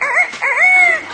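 A parrot imitates a rooster's crow in one close, loud, rising-and-falling call lasting about a second, with a short break between its first and second parts.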